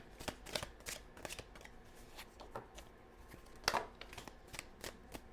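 Tarot cards are shuffled close up and quietly, with a series of crisp riffling snaps and soft slides at an uneven rhythm, and no talking.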